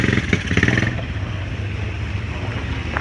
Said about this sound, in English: So we just went on the dirt bikes, guys.